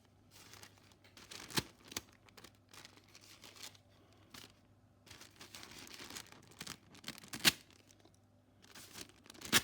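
A paper bag is ripped open by hand on a street, giving faint, brief tearing and crinkling bursts at irregular intervals over low background noise.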